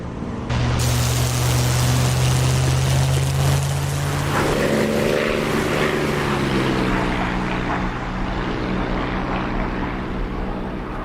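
Steady droning propeller plane engine in a flight simulator video game, loud and continuous, with a low hum holding steady throughout and no talk over it.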